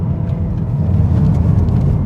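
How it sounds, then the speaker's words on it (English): 2026 Honda Prelude engine building revs under acceleration, a steady loud low rumble heard from inside the car, no talk. "I can step on the gas and let the revs build."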